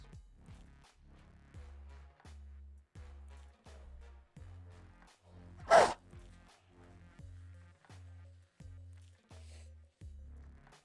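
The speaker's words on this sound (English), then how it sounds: "I'm going to sneeze." A single sharp sneeze bursts out midway, loud and close, over a quiet background of rhythmic, low, thumping game sounds.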